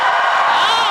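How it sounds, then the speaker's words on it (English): Live debate audience in Austin cheering in a short, loud burst of whoops and crowd noise, with some voices standing out. "give us a cheer"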